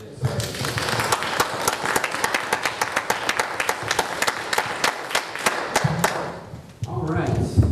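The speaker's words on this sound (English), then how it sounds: "I think they deserve a round of applause for all the work they did." A small group at a village committee meeting applauds grass cutters, with distinct individual claps standing out over a few murmured voices, then the clapping fades and talk resumes near the end.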